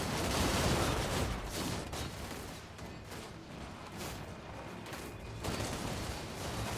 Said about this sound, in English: let the gunfire commence